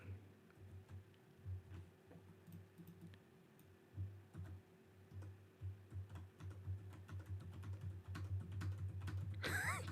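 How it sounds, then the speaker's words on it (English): Fast typing on a computer keyboard during a livestream, a steady patter of quick key clicks for about ten seconds under a low electrical hum, close and fairly quiet. "You'll see me just going ham on the keyboard."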